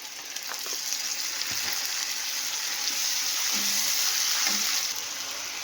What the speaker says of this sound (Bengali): পেঁয়াজটা লাল লাল করে ভেজে নিয়েছি এবার দিয়ে দেবো পেস্টটা